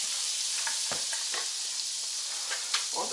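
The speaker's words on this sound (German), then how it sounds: "In die heiße Pfanne etwas Speisefett." Cooking fat sizzles in a hot pan before potato batter for raggmunk goes in. A steady, bright hiss runs throughout, with a few soft clicks and scrapes of stirring.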